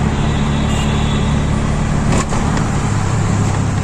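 An auto rickshaw driving on the road, heard as a loud, steady engine and road rumble from close inside the vehicle with one brief rattle midway.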